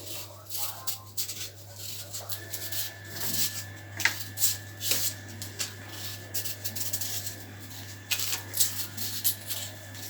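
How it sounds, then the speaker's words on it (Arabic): Potatoes being peeled by hand in a home kitchen, repeated scraping strokes in an uneven rhythm over a steady low hum, close and moderately loud. "نقشر البطاطس"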